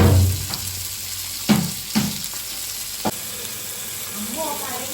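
Bhutai sardine fish frying and roasting in a pan, a steady close sizzle with a few sharp crackles and spatters as the pieces are turned.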